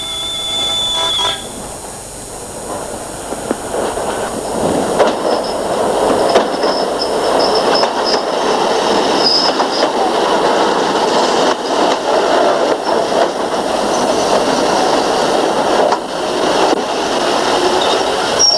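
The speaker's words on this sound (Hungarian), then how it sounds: "Mindjárt jön a vonatod." Train arriving at a station, a continuous loud rumble of rolling rail cars with metallic clatter and faint wheel squeal, close by and steady throughout.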